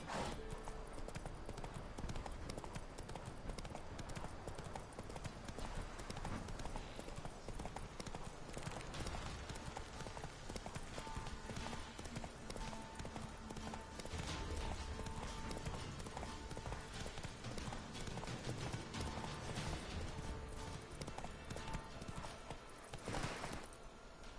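Roach the horse gallops in The Witcher 3, a steady rapid clip-clop of hooves running without a break over a dense game soundscape, with a brief whinny possible.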